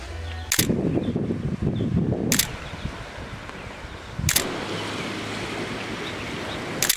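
Ocean waves roll and crash at Glass Window Bridge on the Atlantic side, in Gregory Town, Bahamas. Steady roaring surf is broken by a few sharp gusts of wind on the microphone, with no voices heard.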